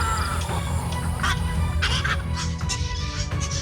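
Loud, harsh honking night heron calls repeat over a dense, noisy outdoor background, close and continuous with no talking.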